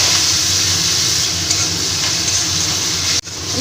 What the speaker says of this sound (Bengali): এবার ভালো করে আমি শাকটাকে ভেজে নেব